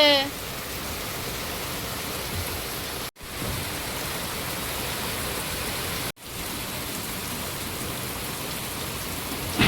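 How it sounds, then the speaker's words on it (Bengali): Heavy rain pouring down outdoors in a steady, dense wash of hiss that runs unbroken and loud from start to finish, with only two brief dips. "কি বৃষ্টি হচ্ছে"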